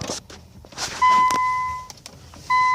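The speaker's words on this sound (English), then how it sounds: "That unlocks the car." An Infiniti M45's door locks release with a sharp mechanical clunk inside the car, set between two steady electronic chime tones and faint rustling in a quiet cabin.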